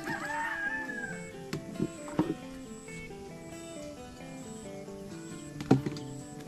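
A rooster crows at a distance over a steady low hum, with a few faint clucks and scattered knocks around it.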